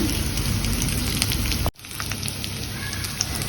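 Barnyard millet (bhagar) sautéing in a pan with boiled potato for a fasting dish, giving a steady close sizzle and crackle that cuts out sharply partway through, then resumes.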